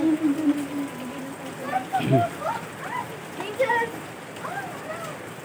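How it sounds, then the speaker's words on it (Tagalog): Heavy rain pours during a typhoon and monsoon storm, a steady broad hiss of downpour running through the whole stretch while people talk and a voice rises over it. "ang lakas ng ulan"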